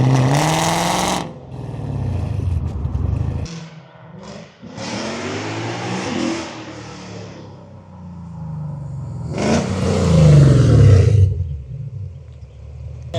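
A Lexus engine fitted with PPE headers revs hard in loud, roaring bursts separated by short pauses, rising and falling in pitch, close to the listener with no talking.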